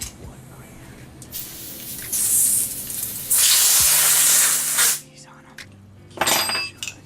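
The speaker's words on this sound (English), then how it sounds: "I'm going to remove the stupid CO2 cartridge out of this magazine, because all I can hear is it leaking" Gas hisses and sprays loudly in bursts from a leaking CO2 cartridge in an airsoft pistol magazine, swelling into a long sustained blast, fading, then spurting again near the end, with handling noise close by.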